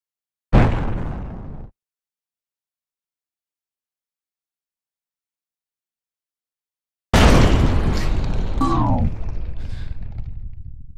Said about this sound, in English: that explosion sound effect kept going and going and going